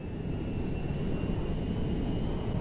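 Steady, droning roar of a cargo jet's engines in Grand Theft Auto 5, a broad constant rumble with faint high whine tones, no talking over it.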